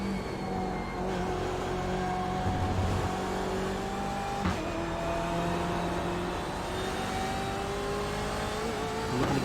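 A BMW M8 race car in the iRacing sim at Lime Rock Park accelerates uphill, its engine note climbing steadily and loud through the whole stretch, with a short dip at a gear change midway.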